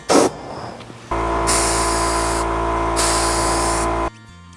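A spray gun puts clear coat on a bike frame in two loud hissing bursts with a short lull between them, close up over a steady hum that stops abruptly at the end.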